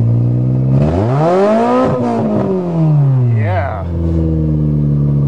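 A Toyota engine revs up close, climbing to a high whine, then dropping and revving again, loud and continuous, with a short spoken word over it.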